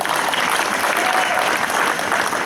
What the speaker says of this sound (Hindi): एक बार और ताली बजा दो यार इस प्ले के लिए